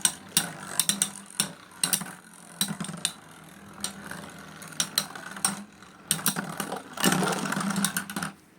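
Beyblade tops, a Phantom Fireplace combo among them, clash and spin in a plastic arena, making rapid metallic clicks and ratcheting clatter in bursts with a sustained whirring grind near the end.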